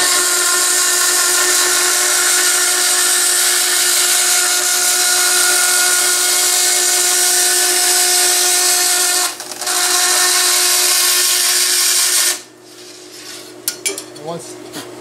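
A bandsaw cuts through wooden stock with a loud, steady whine that drops out briefly partway through, then the cut ends and the blade winds down, with a few light knocks and clatters afterwards.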